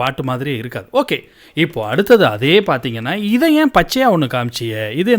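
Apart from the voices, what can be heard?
No everyday noise stands out behind the speech.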